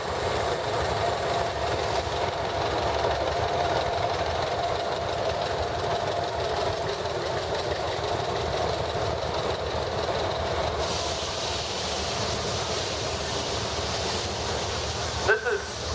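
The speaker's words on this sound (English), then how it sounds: "The 1952 Farmall H, Bill Peterson's out of Genoa, Illinois." A 1952 Farmall H tractor runs in a town parade, its engine a steady low chugging knock heard at moderate distance under constant crowd and street ambience, with a brief sharp clatter near the end.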